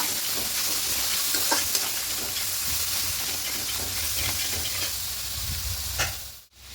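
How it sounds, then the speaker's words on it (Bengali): Shrimp spice paste sautéed in a pan, a continuous close sizzle with hissing steam and repeated scraping stirs, ending in a brief cutoff. "এই মশলাটা এখানে দিয়ে দেব খুব ভালো করে মশলাটা একটু কষিয়ে নেব"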